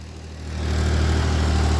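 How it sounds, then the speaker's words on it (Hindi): A tractor engine idles steadily nearby, a deep continuous rumble that swells slightly in the first half second and then holds level, with no voices. "बढ़िया चल रहा है भाई, धुआं उआं दे नहीं रहा, बहुत बढ़िया ट्रैक्टर है।"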